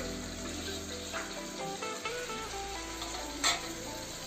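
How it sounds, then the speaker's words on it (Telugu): Chicken liver sizzles and fries in a pan, a steady hiss broken by occasional stirring scrapes and one brief louder clatter near the end. "మధ్య మధ్యలో ఇలా కలుపుతూ ఫ్రై చేసుకుంటూ నీళ్ళన్నీ ఇగిరిపోయే వరకు వేయించుకోవాలి"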